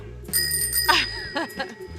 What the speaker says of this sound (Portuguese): a bicicletinha dela tem um sininho